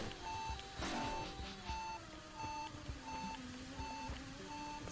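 Low-health warning beeping in the video game Axiom Verge 2: a steady, evenly spaced string of short electronic beeps that repeats throughout over the game's background music and effects.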